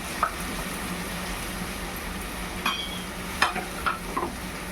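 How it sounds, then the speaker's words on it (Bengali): Spice paste with red chili powder sizzles in hot oil for a bhetki fish kalia, a soft, steady frying hiss broken by a few sharp stirring clicks and scrapes close by. "এবার এই তেলের মধ্যে এখন এই যে মশলা পেস্টটা দিয়ে দিচ্ছি"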